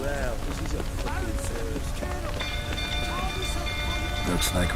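Steady rain hisses across the scene in The Witcher 3 beneath overlapping voices, tonal effects and scattered footsteps, constant and fairly close.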